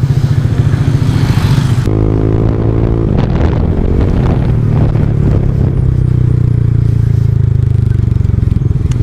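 A first-version Yamaha NMAX scooter's engine runs loud and close, a steady droning hum with a brief clattering rise in revs partway through.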